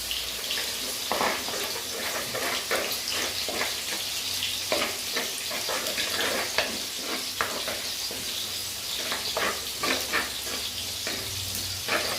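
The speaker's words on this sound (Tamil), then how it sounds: "அந்த மசாலாவை நல்லா அதையும் போட்டு நல்லா எண்ணெயில் கிண்டி விடணும்" Ground masala frying in oil in a clay pot for a fish curry, a steady hiss with repeated scraping stir strokes throughout, close and fairly loud, no voices.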